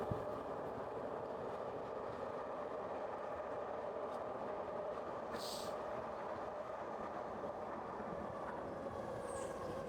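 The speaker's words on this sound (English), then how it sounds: "Just wait for this train." Train passing by at a moderate distance, a steady rumbling roll of rail cars with a continuous drone and faint squeals, no talking over it.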